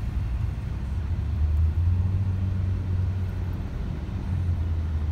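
A 2021 Lexus RX SUV driving in normal mode, its engine giving a steady low rumble from inside the cabin, loud and continuous with a slight rise in pitch partway through, no talking.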